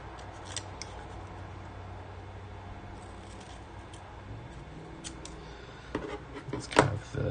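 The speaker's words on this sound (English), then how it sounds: "I'm just gonna trim this" Scissors trimming a piece of material in a workshop, heard as a few close snips and crisp rustles that grow busier toward the end, over a steady low hum.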